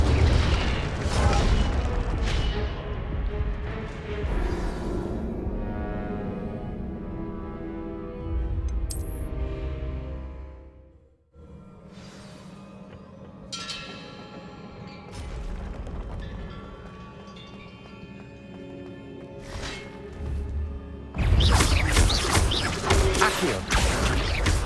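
An Incendio fire spell cast in Hogwarts Legacy, booming bursts and crackling magical blasts with swelling rushes of sound, a quieter stretch midway, then a loud final eruption, with game music underneath.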